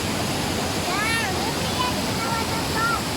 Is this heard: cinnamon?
no